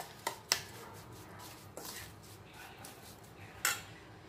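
A spoon stirs mango pickle spice mix with sugar in a pan, giving a few sharp metallic clinks scattered over soft scraping, faint and close, with no talk.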